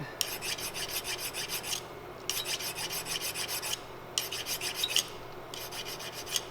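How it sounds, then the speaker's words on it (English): A hand file rasps in repeated back-and-forth strokes across the steel base of a rifle sight, flattening it to fit a dovetail on a muzzleloader held in a vise; four close bursts of strokes separated by brief pauses. "file it a little closer. The idea is to keep it flat"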